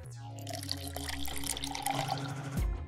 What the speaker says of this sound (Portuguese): para começar, cubra o arroz com água fria.